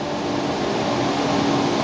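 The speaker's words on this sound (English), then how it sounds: "The noise you're hearing is actually the vacuum coming through the bed." Timesavers 3300 Series 37-inch wide belt sander with air drawn by vacuum through its bed, giving a steady, even rushing hum with a faint tonal drone, unchanging and alone.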